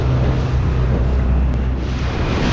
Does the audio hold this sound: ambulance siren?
no